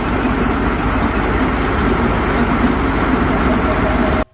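A combine harvester runs steadily with its concave set tight, a dense continuous mechanical roar of engine and churning machinery that stays loud and even throughout before cutting off abruptly at the end.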